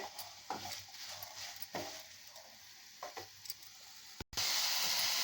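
Onion, tomato, garlic and curry leaves sauté in a pan, a soft hiss with a few light scrapes and taps of a spoon, faint and close, ending in a louder burst of sizzling.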